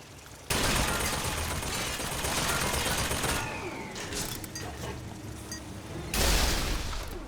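Gunfire in BioShock Infinite: Burial at Sea, a loud dense volley lasting several seconds with mechanical clatter and debris, easing off before a final burst near the end.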